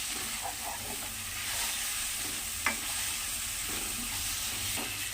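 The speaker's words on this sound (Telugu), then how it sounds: "ఇలా నెయ్యి వేస్తూ ఫ్రై చేసుకుంటూ ఉండాలి." Grated papaya frying in ghee for payasam in a pan, a soft, steady sizzle with faint stirring scrapes and a single sharp utensil tap, quiet and close.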